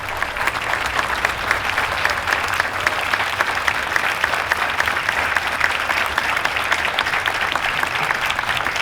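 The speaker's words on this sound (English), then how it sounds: "A round of applause." Sustained applause from a crowd at a Veterans Day event, steady clapping filling the room for several seconds with no voices standing out.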